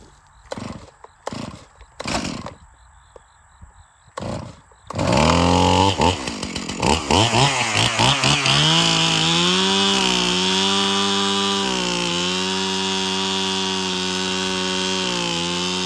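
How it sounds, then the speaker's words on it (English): Chainsaw cutting down a small tree on an overgrown slope: a few sharp starter pulls, then the engine roars to full throttle and settles into a loud, steady high-pitched whine as it cuts, close by. "Just go ahead and chainsaw it down so it'll lay flat"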